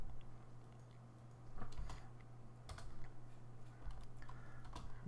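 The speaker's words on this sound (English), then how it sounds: "It's really hard to type with a microphone sitting between your arms." Someone types on a computer keyboard while setting up a BeagleBone Black home automation project, giving irregular bursts of quiet close keystrokes with short pauses between them and no talk.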